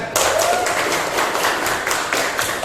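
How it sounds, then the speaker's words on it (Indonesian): A classroom group claps together in dense, steady applause that carries on for a couple of seconds in a roomy space. "Tepuk tangan."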